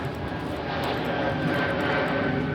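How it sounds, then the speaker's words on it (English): An airplane flies over near an airport by the Philadelphia Navy Yard, a loud broad roaring rumble that swells slightly and holds steady throughout. "every time I hear a plane, I get a little jumpy"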